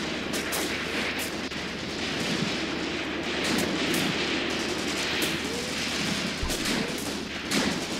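Artillery fire in the WWII tactics game Graviteam Tactics: Mius Front, heard as a dense, continuous rumble of distant shelling and gunfire with repeated sharp reports, loud and steady throughout with no speech.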